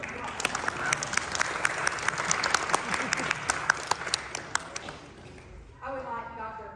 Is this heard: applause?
yes